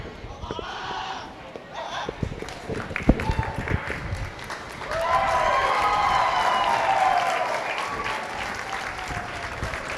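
Audience at a market and breeding goat show bursting into applause and cheers, sparse claps at first swelling into a sustained loud wave of clapping and whoops, with voices mixed in.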